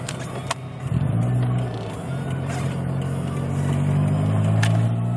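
A Mazda MX-3 with a 1.6 litre engine runs while driving, its steady low drone wavering and dipping unevenly as the misfire makes it sputter, close and fairly loud with road noise underneath.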